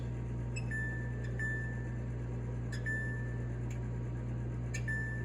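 Three short electronic beeps from an oven's control panel, spaced about two seconds apart, ring out over a steady low hum as the cooking time is keyed in.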